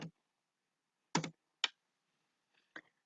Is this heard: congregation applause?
no